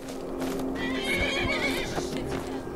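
A horse in the video game Skyrim whinnies loudly and close, a single drawn-out neigh with a few hoof clops underneath.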